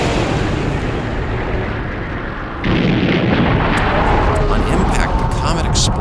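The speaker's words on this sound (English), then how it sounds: "Next was an ear-shattering sonic boom." The sonic boom of a huge asteroid impact on Earth comes as a loud, continuous roaring rumble that surges abruptly louder partway through and keeps thundering to the end.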